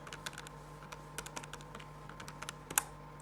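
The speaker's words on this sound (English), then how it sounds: "if I type that into the calculator" Soft, irregular key presses as numbers are typed into a calculator, a dozen or so light clicks over a quiet room hum, ending with one slightly firmer tap.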